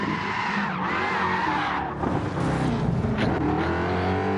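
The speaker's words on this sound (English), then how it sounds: "And drifting to Group 4 on racing tires isn't exactly easy." Touring car on racing tires drifting in a racing video game, tires squealing loudly and steadily over a revving engine, with no voices.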